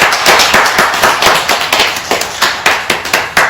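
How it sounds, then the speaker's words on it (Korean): A Korean church congregation claps to celebrate Christmas at a service: loud, close, rhythmic unison clapping with steady, evenly spaced sharp beats, about three per second. "우리 주님의 성탄을 축하하면서 축하의 박수를 하나님께 올리겠습니다"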